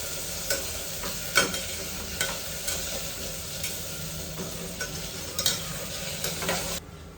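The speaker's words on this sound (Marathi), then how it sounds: "आता यामध्ये चणे घालते मी भिजवलेले. आणि आता हे छान परतून घ्यायचं" Soaked chickpeas sautéing with black masala in a pan, a constant close sizzle with scattered clicks and scrapes of a stirring spoon.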